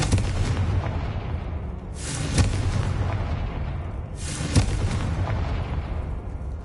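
Confringo fire spell in Hogwarts Legacy bursting in a sustained roaring blast, with two heavy booming impacts spaced a couple of seconds apart over dense rumbling, loud and continuous with no voice.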